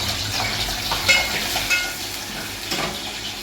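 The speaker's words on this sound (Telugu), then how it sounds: "ఇదిగోండి, ఆయిల్ వేసి పెట్టాను, ఉల్లిపాయలు వేస్తున్నా." Sliced onions frying in hot oil at the start of an aloo curry, giving a loud, steady sizzle and crackle with a few brief spikes of spatter.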